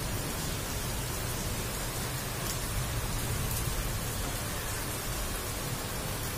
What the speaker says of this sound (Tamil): சிறிய தூறலாக ஆரம்பித்த இந்த மழை சற்று கனமான மழையாக தற்பொழுது இருக்கிறது.